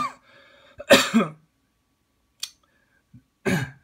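A person coughs sharply, then gives a brief throat-clearing sound and another short cough after a pause, close up in a quiet room.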